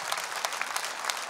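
An audience at a folk singing gala applauds a jury member, Suren Avoyan, with a short burst of brisk, evenly textured clapping from a crowd.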